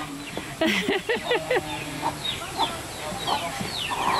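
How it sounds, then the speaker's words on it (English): Chickens at a cultural village in Borneo, with several short clucks and calls close by over outdoor ambience, one burst of rapid calls early on and scattered softer clucks after. "I'm gonna follow the chickens."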